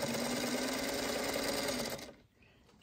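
A sewing machine stitches a quilt block on a short stitch length, a steady close mechanical whir running for about two seconds before stopping abruptly, followed by a faint click.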